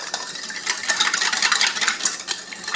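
A whisk scrapes and clicks steadily against a bowl while mixing a soy sauce and sesame oil sauce for shrimp lo mein, brisk rhythmic strokes heard close and alone.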